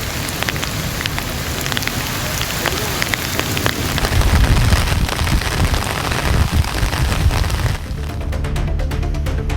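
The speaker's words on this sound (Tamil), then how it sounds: "தூத்துக்குடி மாவட்டம் கோவில்பட்டி சுற்றுவட்டாரத்தில் பலத்த காற்றுடன் கனமழை பெய்தது." Heavy rain lashes down with strong wind around Kovilpatti in Thoothukudi district, a dense, steady roar of drops hammering surfaces, swelling louder midway with low gusty rumbles.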